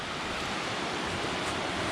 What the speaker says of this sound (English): As you can see, there's a rush of water.